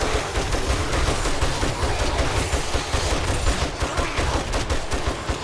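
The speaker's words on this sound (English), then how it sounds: "I will say my gunshots are hitting my door more than I would like, which is causing damage" Sustained gunfire from a weapon in the survival video game 7 Days to Die, a dense, loud barrage of rapid shots with no pauses, firing continuously throughout.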